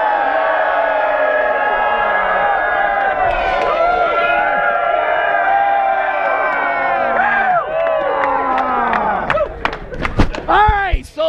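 A crowd of buzzed Tour Divide 2019 cyclists at the Grand Depart cheers loudly and continuously, a dense wall of whoops and shouts that builds to sharper yells and whistles near the end.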